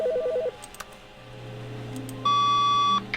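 A phone in The Stanley Parable video game sounds a short rhythmic beeping pattern, then a sustained electronic tone, clear and alone with no talk.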